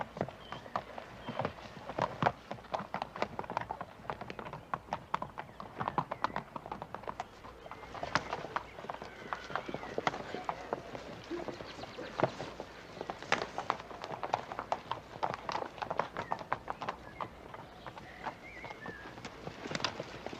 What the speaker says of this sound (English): It's one of the horses.